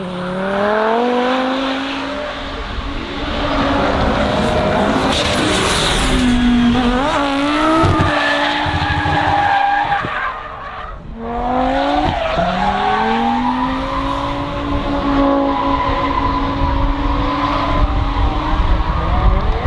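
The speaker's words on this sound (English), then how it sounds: "These four-wheel drive Audis is always fun to see here at Gatebil. They're trying to drift, the four-wheel drive drift" Four-wheel-drive Audi race cars drifting around the Gatebil track, loud revving engines and long squealing tires rising and falling, with a brief lull midway before another car screams past.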